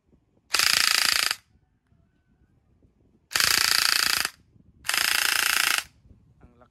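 A WD PDX V2 gel blaster, upgraded and shimmed, test fired in three loud bursts of rapid mechanical clatter, each about a second long, with quiet gaps between.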